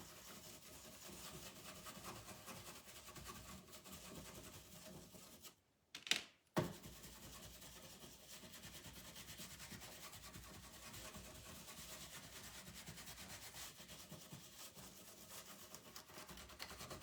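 Décor wax worked over a stencil with a brush in steady circular motions, a soft continuous rubbing and scrubbing texture throughout, broken by one brief pause and a couple of small clicks midway.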